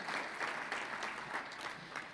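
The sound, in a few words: applause from the dinner audience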